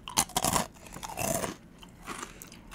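Crunchy keto crackers, small and cracker-sized, being bitten and chewed up close, with several sharp crunches in quick succession, then a longer crunching burst and softer chewing as it fades.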